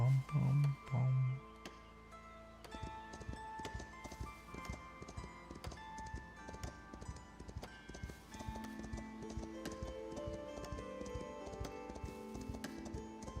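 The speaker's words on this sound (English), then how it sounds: "Horsey is on the way." A horse trots in the Foundation medieval kingdom-building game, its hooves clip-clopping in a quick, even rhythm over soft game music, after a few low hummed notes at the start.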